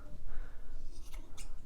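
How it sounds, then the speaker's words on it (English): Sharp scissors snip through macrame cord fringe, giving two crisp close cuts about a quarter second apart over a low room hum, with no one talking. "you can just use your sharp scissors to give your fringe a nice trim"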